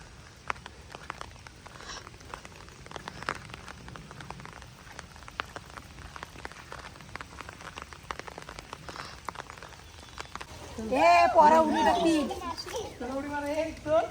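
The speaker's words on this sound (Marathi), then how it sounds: "खूप म्हणजे खूप पाऊस पडतोय" Steady rain patters on a hard surface at a farmhouse with scattered drips, and near the end children's voices rise over the downpour.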